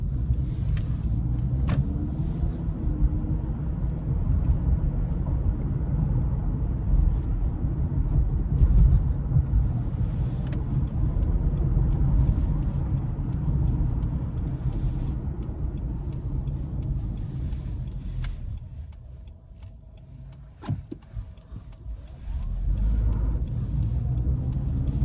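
Inside a 2024 Honda CR-V Hybrid, the engine and road noise form a steady low rumble that briefly eases and dips before building back up, without any speech.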